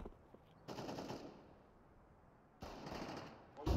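Gunfire in Counter-Strike, two sustained bursts of rapid shots with a short pause between and another starting at the end, loud and alone.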